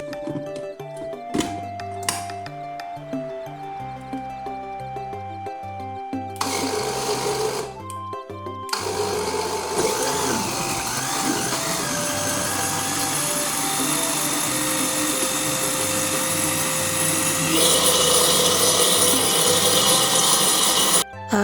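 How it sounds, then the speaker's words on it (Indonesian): A kitchen blender whirs steadily as it purées guava for juice. The loud motor drone runs on for many seconds after a few shorter starts and pauses at the beginning. "Setelah di blender lalu disaring"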